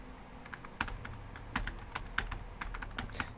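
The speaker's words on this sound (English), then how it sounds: "I'll bring it up here so I can do some typing for you." Sparse, irregular clicks of computer keyboard keys sound close and quiet over a faint low hum.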